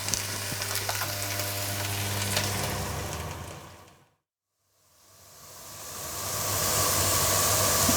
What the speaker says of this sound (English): The fennel, mushrooms, and now we cook them just for a few minutes.